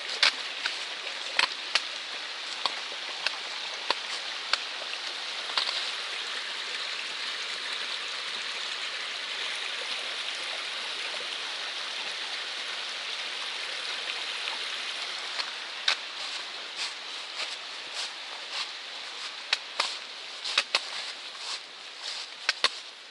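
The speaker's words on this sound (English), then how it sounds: "It started raining harder a little bit ago" Steady rain falling in the 100 Mile Wilderness on the Appalachian Trail, a constant close hiss with scattered louder drops tapping nearby, continuing without voices.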